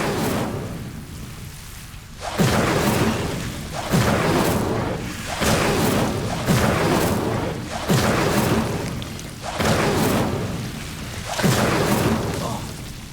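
Repeated Incendio fire spell blasts from the Hogwarts Legacy video game, about six evenly spaced whooshing bursts roughly every one and a half seconds over a steady rumbling game backdrop.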